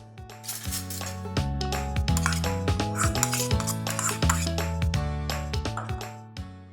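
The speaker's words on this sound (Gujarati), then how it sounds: "હવે હું એની અંદર આ પમ્પકિન એડ કરીશ." Chopped pumpkin is tipped into a bowl of finely chopped, washed fenugreek leaves, giving busy metallic clinks and scrapes of a spoon against the bowl that run without a break and sit close and fairly loud.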